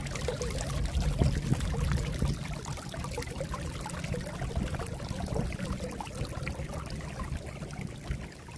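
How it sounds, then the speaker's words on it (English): Running water pours steadily from a drain dry well outlet during a thaw, a continuous broadband rush and splash that stays loud and unbroken throughout. "What is it about running water?"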